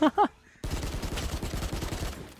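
Bulldog rifle fire in a Valorant esports match: a brief voice, a short pause, then a dense, rapid burst of automatic gunfire rattling steadily for about two seconds.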